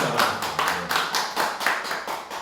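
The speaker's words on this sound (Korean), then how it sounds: "박수로 격려해 주시죠" Audience at a church gathering applauding in a steady burst of hand claps, close and lively, sustained evenly for a couple of seconds.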